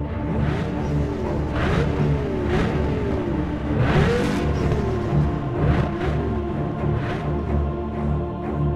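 Car engine revving during a street race in GTA San Andreas, a loud sustained roar with rising and falling pitch sweeps as gears shift, plus repeated whooshing passes and a busy game soundscape.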